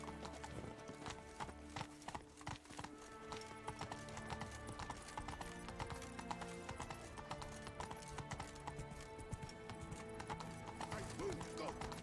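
Horse hooves clip-clop in the video game Witcher 3 in a steady trotting rhythm, close and continuous, over a bed of game music throughout.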